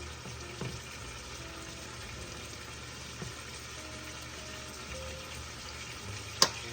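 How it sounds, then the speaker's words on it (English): Quiet steady bubbling and sizzling of water cooking off in a hot pan with chicken browning, a low continuous hiss with a few soft pops and one sharp click near the end. "That's the water just bubbling off."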